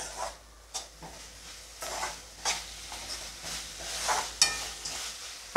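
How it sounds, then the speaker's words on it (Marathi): Soaked chana dal sautéed in a pan for a cabbage bhaji, giving a soft steady sizzle broken by several scraping stirs of a spoon against the metal, close and fairly quiet with no talking. "आता इथं मी थोडीशी चणा डाळ मी भिजत ठेवली होती ती टाकून घेते आणि ती सुद्धा मी परतून घेते"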